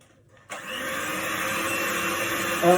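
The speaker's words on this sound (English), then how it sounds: "We do need to keep it whisking, and this is now where we want to start getting it to be more like your familiar meringue peaks." An electric whisk starts up after a short silence and runs as a steady, close motor whir, whisking meringue over heat for lemon macarons, with a slight rise in pitch near the end.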